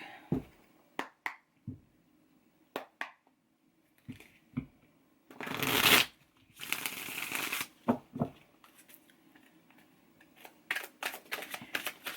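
A deck of tarot cards is handled and shuffled up close in short, crisp riffles and slaps, with one longer shuffling burst in the middle, separated by quiet gaps.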